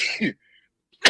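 A single sharp sneeze from a person in a golf-chat setting, sounding abruptly after a brief quiet gap, preceded by a short bit of voiced exhalation.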